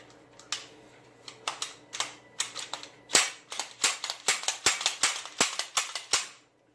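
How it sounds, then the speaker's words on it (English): A freshly cleaned Sig Sauer pistol fires a string of about a dozen sharp, cracking shots. They start spaced apart, then come in quicker bursts toward the end, loud and close, with no talking. "And then I just shoot it a couple of times and make sure that everything's working right."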